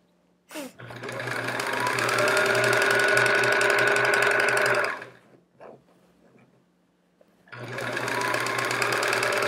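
A sewing machine stitches the back of a Charming Chevrons quilt, running loud and steady for about four seconds, stopping, then starting up again, close by with no talking.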